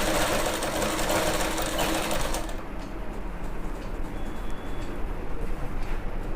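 A sewing machine stitches pleats on trousers, running loud and fast at first, then continuing at a lower, steadier mechanical rattle.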